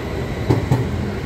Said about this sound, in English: This is the train we came with. It's moving on.